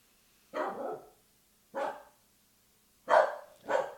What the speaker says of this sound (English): settle down, little dog.